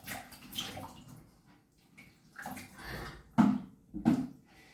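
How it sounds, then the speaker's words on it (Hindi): Running water splashes as hands are washed after a yoga cleansing practice, a soft continuous wash with two louder splashy bursts near the end. "हाथों को साफ कर ले आप।"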